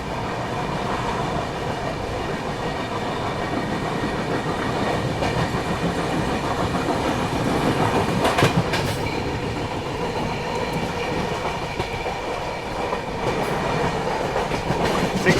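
An express train runs on rails in India, a loud continuous rumble with clickety-clack of wheels passing close by, steady throughout with no talk.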